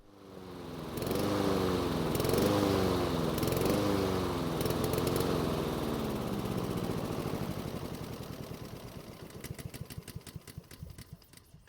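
Cheap Honda lawn mower engine with a slightly larger displacement, running steadily and loud on its last bit of gasoline, then beginning to sputter and pulse unevenly as the fuel runs out.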